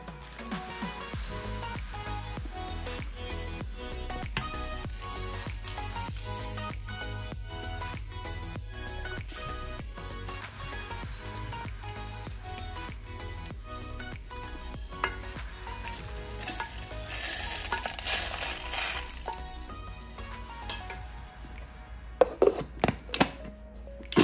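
Three sliced onions frying in a pan for a vegetarian jackfruit biryani give a loud, steady, dense sizzle throughout, with a few sharper clatters of a utensil near the end and no talk.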